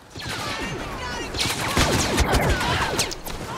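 Rapid bursts of gunfire crackle continuously in Star Wars: Battlefront, dense and loud, layered with overlapping shots and impacts throughout.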